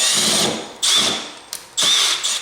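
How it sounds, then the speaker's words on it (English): A power drill runs in three loud, sustained bursts with brief pauses between them, close up, while a wooden bowl blank is roughed out. "this is pretty much the only kind of drilling you need at all"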